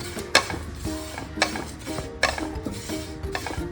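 Dry lentils being roasted rattle and scrape in a pan as they are stirred, with several sharper clinks of a spoon against metal and a faint sizzle underneath.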